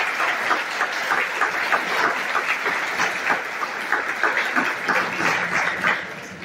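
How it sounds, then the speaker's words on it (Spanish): Congregation applauding at a Catholic blessing mass for a newly built church, a steady, dense wash of clapping that holds for several seconds and tapers slightly at the end. "Regalémosle un fuerte aplauso"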